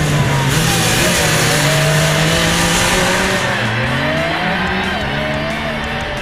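A Yamaha YXZ 1000 R side-by-side engine revs hard on a track, its pitch climbing and dropping through gear changes, loud and close, with brief tire squeal.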